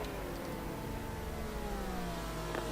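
A race car engine running in the racing game GTR 2 at the Grobnik circuit in Croatia, a steady droning hum with slowly shifting pitch and no voices.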